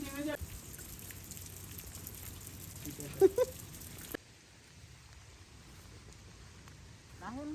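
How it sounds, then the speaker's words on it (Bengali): Rain falls around a picnic shelter at a campsite in Arrowhead State Park, Oklahoma, as a steady soft hiss that drops to a quieter patter partway through, with a few brief louder knocks. "ওখানে বসে আমরা বৃষ্টি উপভোগ করছিলাম।"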